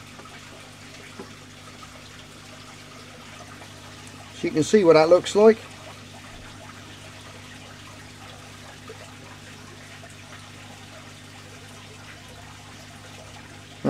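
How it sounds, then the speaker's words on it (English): Water gushes and splashes out of a shrimp trap as it is lifted from a tank, a short burst of pouring and dripping in the middle, with someone talking calmly before and after. "The air goes back through the door, which releases all the water."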